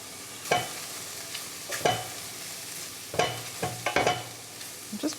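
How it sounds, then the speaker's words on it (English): Spoon stirs gluten-free flour into mushrooms and ghee in a pan, a few scraping strokes over a low, steady sizzle. "what I'm going to do now, guys, is add about 2 tablespoons of flour in order to make a roux"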